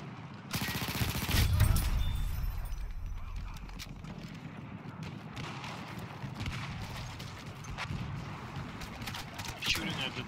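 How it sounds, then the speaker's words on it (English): Repeated gunfire in Battlefield 1 crackles throughout amid a busy battlefield din that includes galloping hooves, with a heavier burst near the start and scattered shots later. "I'm shooting at the dead guy, I don't know why."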